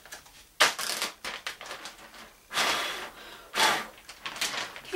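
A plastic Ziploc bag being opened and handled, loud crinkling bursts and rustles in several separate surges, close to the mic, with no speech.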